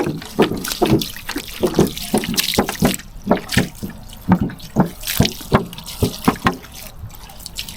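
Water runs for a quick rinse, splashing and dripping in a steady series of close, rhythmic pulses with a wet, churning texture.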